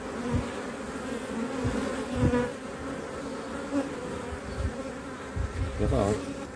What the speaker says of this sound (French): C'est rare hein, de voir une reine sortir de sa ruche.